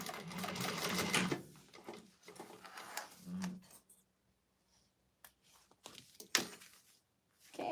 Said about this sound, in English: top stitch along that seam